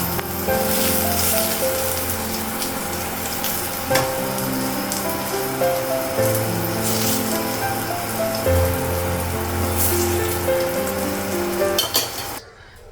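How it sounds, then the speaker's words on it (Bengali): Eggplant frying in a pan gives a steady, loud, close sizzle like rain on a surface, continuous throughout, with a background hum of steady tones and no talking. "বেগুনটা ভাজা হয়ে গেছে বের করবো"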